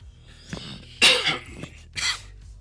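Two harsh coughs burst out close by, one after the other with a short gap, amid faint background noise.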